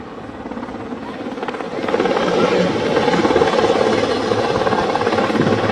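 Loud, steady thudding rotor roar of a large Sea King helicopter close by at a naval display off RK Beach, Vizag, growing slightly louder and filling the whole clip.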